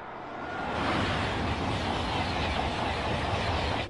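A South Korean high-speed train on a trial run rumbles past steadily on a freezing winter morning, with a broad, continuous roar that swells in the first second and then holds loud and even.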